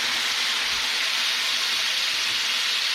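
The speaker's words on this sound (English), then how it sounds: "Let that simmer away just to get the rest, see all the juices going around" Ormer juices thinned with water simmer in a pan, giving a steady, close hiss of bubbling and sizzling that runs throughout with no voices.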